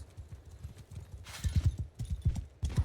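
Horse hooves clip-clop on the ground in the Bannerlord video game, a steady run of close, fairly loud hoofbeats with a brief burst of broadband noise partway through.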